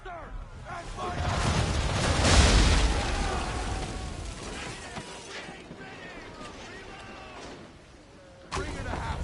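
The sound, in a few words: cannon fire from a ship in video game Assassin's Creed III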